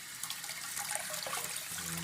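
Water from a running tap streams steadily over a diecast Chevelle model car, a continuous moderate splashing and trickling that lasts the whole stretch with no talk.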